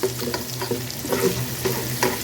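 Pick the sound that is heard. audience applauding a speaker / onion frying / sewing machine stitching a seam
onion frying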